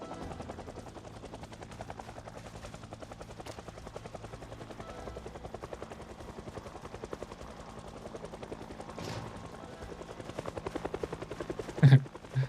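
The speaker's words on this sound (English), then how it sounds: "So I doubt there's really any zombies to get hustled up by" A helicopter in the video game Project Zomboid drones steadily with a continuous rotor chop, fairly faint and unbroken throughout, swelling slightly toward the end, with no talking.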